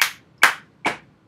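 Three sharp, close hand claps ring out at an even pace from a stomp-and-clap body percussion rhythm, followed by the start of a fourth, each decaying quickly into quiet.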